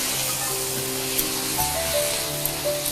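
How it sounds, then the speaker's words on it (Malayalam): Hot tempering poured over soya ularth sizzles loudly, a continuous hissing crackle lasting a few seconds. "ഈ താളിച്ചത് നമ്മളിതിൻ്റെ മുകളിലേക്ക് ഒഴിക്കും."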